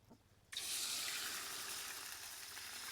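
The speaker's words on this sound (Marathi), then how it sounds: "आता त्याच्यात काय टाकायचं पाणी टाकायचं" Water is poured into a cooking pot from a small vessel for a vegetable dish, with a sudden loud, steady gushing splash that starts after a brief quiet moment and keeps going close by.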